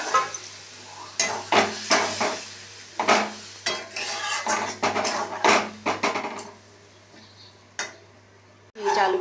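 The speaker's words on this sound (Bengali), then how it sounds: "বাটা মশলাটা একটু ভালোভাবে কষাতে হয়, জল দিয়ে ভালো করে কষিয়ে নিয়েছি" Ground spice paste is sautéed with water in a metal pan, a spatula scraping and knocking against the pan in repeated uneven strokes, with soft sizzling between them and a low steady hum behind.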